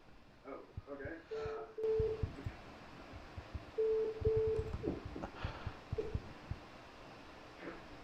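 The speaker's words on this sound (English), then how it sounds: "for some reason, are getting notification sounds. I apologize about that to everyone. I can hear you, but then there's also a beeping." A new phone system sounds short electronic notification beeps during a call. One beep is followed by a double beep a few seconds later, both under people talking.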